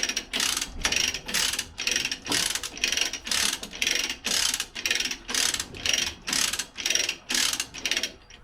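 A ratchet strap cranks in rhythmic bursts of clicking, about a dozen close, loud strokes, hauling a worn hydraulic cylinder from a John Deere 410 backhoe up toward the cab.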